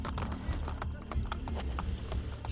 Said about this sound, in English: I want this horse. Give me the horse!